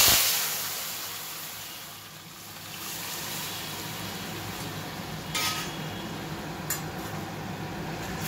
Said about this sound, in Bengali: এইবার আমি ডালটা দিয়ে দেবো।